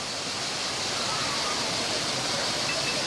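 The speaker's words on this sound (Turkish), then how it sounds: "Gördüğünüz gibi şelale oluklardan akar bu şekilde." A waterfall spilling from troughs at the Dokuz Oluk highland in Karaisalı, Adana, gives a constant, even hiss of falling water, close and unbroken throughout with no voices.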